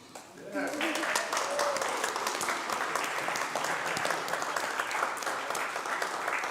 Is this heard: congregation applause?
yes